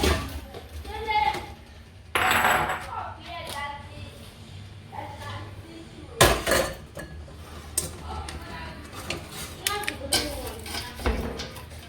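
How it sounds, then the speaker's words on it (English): Caramelized sugar-coated popcorn tipped from a pot into a bowl, producing scraping and clattering metal knocks in bursts, with people talking over it. "I can now empty it into the bowl."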